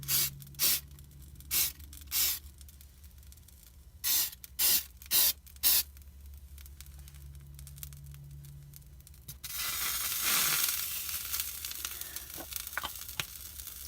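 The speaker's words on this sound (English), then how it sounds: "I'm going to spray my egg ring as well." Canola oil sprayed from a can onto an egg ring in a small 6-inch skillet: several short separate hissing spray bursts, then a longer continuous hiss with faint sizzling, close and fairly loud.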